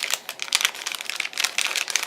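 Blind bag packaging crinkles as it is opened with scissors: rapid, dense, close-up crackling and rustling in quick bursts with no talking.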